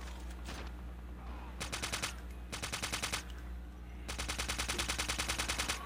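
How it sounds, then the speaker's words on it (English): Rapid automatic gunfire from Call of Duty Mobile, in a knife-only match, comes in three dense rhythmic bursts, loud and close, over a steady low game hum. "I have no clue how I'm hearing shots"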